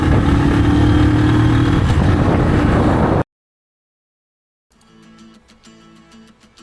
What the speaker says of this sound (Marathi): तर असा आमचा पाच गाड्यांचा समूह आणि आम्ही दहा जण थेट निघलो जंजिरा किल्ल्याच्या दिशेने